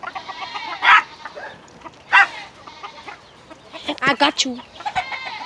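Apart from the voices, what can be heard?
chickens clucking on a farm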